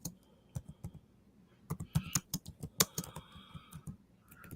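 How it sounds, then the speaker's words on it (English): Keys clack on a computer keyboard in quick irregular bursts of sharp taps, close and fairly loud, with a faint tonal hum in the background. "Hold on. I'm just typing."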